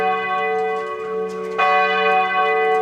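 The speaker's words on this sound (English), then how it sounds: "Oh, and there's the chimes." A city clock in Timisoara, Romania chimes at 12 o'clock with sustained, ringing bell tones. A fresh strike lands partway through and swells louder, with no talk over it.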